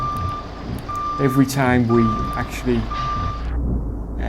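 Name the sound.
truck warning beep when braking, Truck Driver video game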